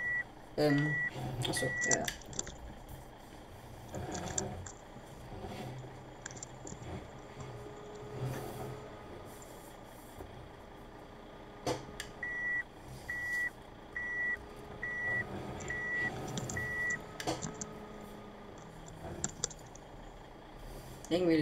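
Reversing beeps from a vehicle backing up a short distance, a steady chain of evenly spaced electronic tones that comes in at the start and returns later, with clicks, a low engine hum and brief speech alongside.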